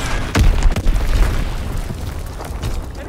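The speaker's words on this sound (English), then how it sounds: "Dropping Azon bomb." An Azon bomb explodes in Call of Duty WW2 with loud, close, deep booms. Rumbling blasts hit in the first second, then a lingering roar fades with another thump near the end.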